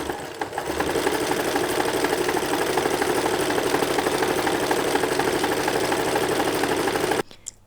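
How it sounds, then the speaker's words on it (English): A sewing machine runs a zigzag stitch over the raw edges of butter yellow gingham fabric for a tiered summer dress, a fast steady mechanical whirring with rhythmic needle clatter, close and continuous before stopping abruptly. "I'm just going to use the zigzag stitch on my sewing machine"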